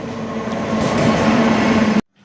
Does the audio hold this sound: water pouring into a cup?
no